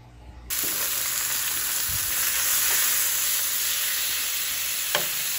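Chicken breast frying on a hot flat griddle, a loud steady sizzle that bursts in sharply and holds evenly throughout, with a few faint clinks of a utensil and no talking.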